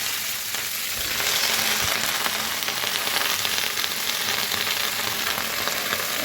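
Pumpkin greens with tender stalks hitting oil already crackling with panch phoron (Bengali five-spice), a loud, dense, steady sizzle close by with a few faint clinks and no talking.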